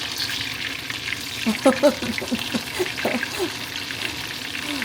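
Oil pops and crackles in a pan, with a few sharp bursts of spattering standing out over a steady frying hiss.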